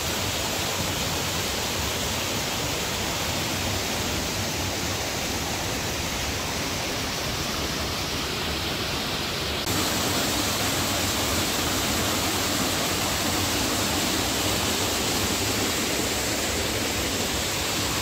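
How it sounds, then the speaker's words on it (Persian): Semirom waterfall in Isfahan Province, Iran, pouring down through a rock cleft: a steady, dense roar of falling water that continues unbroken for the whole span, with a slight shift in tone partway through. "و این آبیه که تبدیل میشه با آبشار سمیرون و از اون شکاف میریزه پایین"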